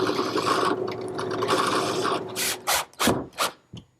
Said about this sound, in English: There's two operations for the screw hole. First, a 3/16 through hole, then a countersink for the screw head.